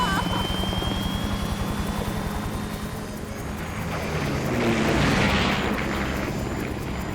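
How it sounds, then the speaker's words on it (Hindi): Steady helicopter rotor thump and engine drone fill the whole stretch, heard from inside the cabin, swelling slightly louder toward the end. "हम हेलीकॉप्टर में हैं।"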